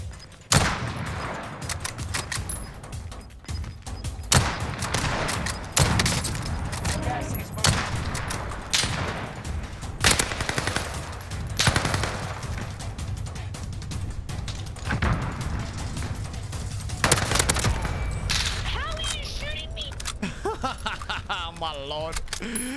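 Rapid bursts of gunfire from the video game Warzone crack out over and over, loud and close, with a player talking over much of the shooting.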